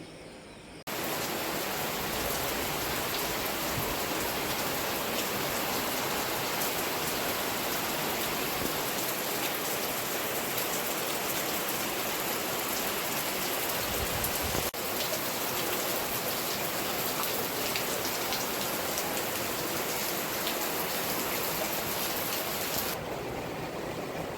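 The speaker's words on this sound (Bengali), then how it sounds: "জানালা দিয়ে এপাশে বৃষ্টি পড়ছে দেখছি" Steady rain falls outside a window in rural Sundarban, a dense, even hiss that holds for over twenty seconds with no voices.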